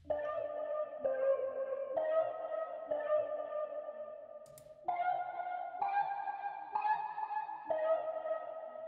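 A synth lead made in FL Studio and treated with reverb and delay, playing a slow melody of sustained tones that change roughly once a second, each tail echoing into the next.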